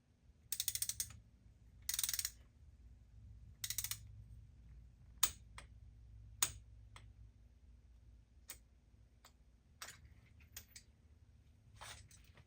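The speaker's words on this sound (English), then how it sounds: "And now you can torque it down to 19 foot-pounds or 25 Newton meters." Torque wrench ratcheting as it tightens a spark plug on a 2023 Porsche Macan 2.0L Turbo: several bursts of close, crisp ratchet clicks, then scattered single sharp clicks over a low steady hum, no talking.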